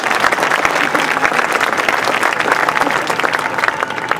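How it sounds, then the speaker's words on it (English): Audience at the World of Color premiere at Disney California Adventure applauding the show's team, loud, dense, continuous applause from a large crowd with some cheering mixed in. "You deserve a huge round of applause for your efforts."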